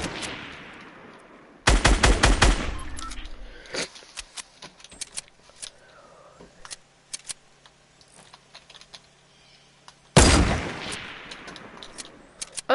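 Sharp gunshots in Fortnite crack out in two loud bursts with a long echoing tail, separated by a stretch of faint clicks and small taps.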